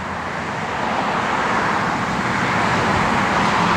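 A 1970 Dodge Coronet R/T running nearby, its engine giving a steady, loud, broadband rumble that holds evenly throughout with no revving or pauses.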